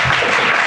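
A church congregation bursting into applause, a dense, loud wash of many hands clapping together in a brief burst with no gaps.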